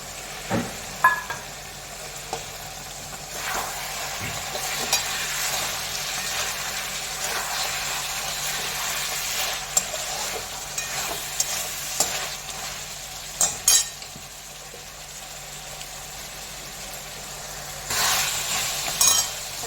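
Spring onions, green chillies and tomatoes stir-fry in a pan as a steady hiss, broken by repeated scrapes and clinks of a spatula, with a louder burst of sizzling near the end.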